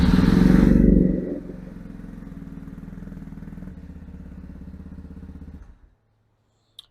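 A fuel-injected Titan 250 motorcycle engine revs loudly for a moment, then settles into a steady close idle before shutting off into silence.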